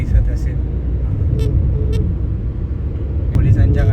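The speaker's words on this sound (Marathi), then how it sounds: "मर्सिडीज आहे मध्ये, पुढे 2 पोलिसांच्या गाड्या आहेत आणि मागे 2 पोलिसांच्या गाड्या आहेत" A convoy of police cars with a Mercedes in the middle rolls past, giving a steady, loud low engine and road rumble while a person talks over it.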